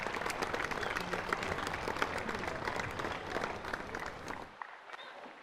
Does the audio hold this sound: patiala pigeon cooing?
no